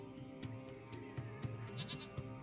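Small goat in the video game Lost Horizon giving repeated short bleats in an irregular rhythm over a low ambient game hum, faint and alone.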